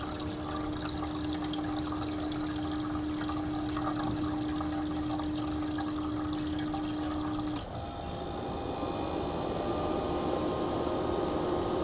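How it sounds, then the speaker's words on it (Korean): Water running into an ice-making machine as it fills, a steady rushing flow with a constant mechanical hum that cuts out partway, after which the splashing trickle continues alone, close by with no talking. "봉 있는 데다 지금 물을 채우고 있잖아요"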